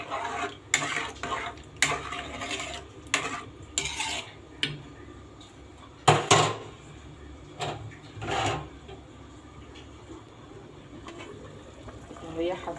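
Rice and green fava beans boil in a pot while a spoon stirs and clinks against the metal in scattered bursts over a low bubbling bed of sound, with occasional speech nearby.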